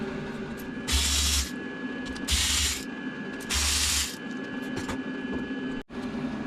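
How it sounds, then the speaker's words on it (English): Three short, loud whirring bursts from a power ratchet-type tool, evenly spaced, as it removes the three coil pack bolts on a Sea-Doo watercraft engine, with a quieter steady hum between bursts and no talking. "First thing we're going to do is remove the three lugs, the 3 bolts on your coil packs."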